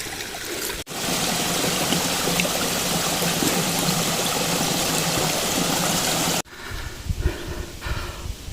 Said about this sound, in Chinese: 过小溪